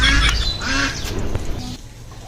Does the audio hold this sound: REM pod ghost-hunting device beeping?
no